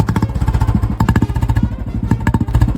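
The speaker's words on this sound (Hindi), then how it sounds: "वो देखने से पहले आप मेरी बुलेट का नॉर्मल साउंड सुन लो।" A Royal Enfield Bullet motorcycle idling with its stock exhaust, a loud, close, steady thumping beat of rapid, evenly spaced pulses that holds throughout with no voices.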